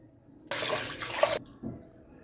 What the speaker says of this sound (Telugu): చికెన్ బిర్యానీకి హాఫ్ కేజీ బాస్మతి రైస్ తీసుకొని మంచిగా కడుక్కోవాలి